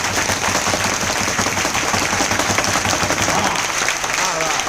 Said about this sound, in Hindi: जोरदार तालियां दोनों के लिए।